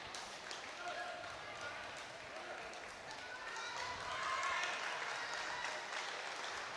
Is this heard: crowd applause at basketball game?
yes